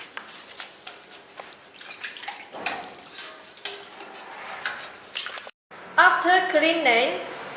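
Water splashes and runs as the removed tank of a ZJ150 table top sugarcane juice machine is washed, with metallic clatters and a louder rush of water toward the end.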